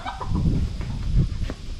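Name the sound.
chickens clucking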